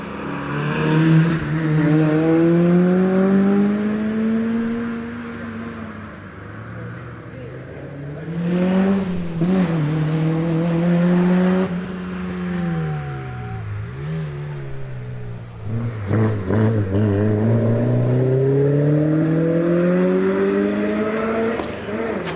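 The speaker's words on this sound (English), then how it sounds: "As away goes Jonathan Elwood in the Honda Civic Type R" A Honda Civic Type R rally car climbs a hillclimb course, its engine revving hard through rising and falling gear changes, loud and close, with a commentator's voice over the engine.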